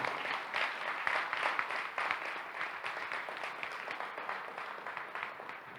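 Applause from an audience at a municipal election gathering, steady dense clapping heard at moderate distance, gradually easing off without talk over it.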